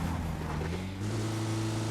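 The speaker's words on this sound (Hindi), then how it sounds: "तो फिर मैं यहाँ से गाड़ी लेके निकल जाता हूँ" Car engine driving in PUBG Mobile, a steady droning motor with a rising tone as the vehicle accelerates, moderately loud and continuous.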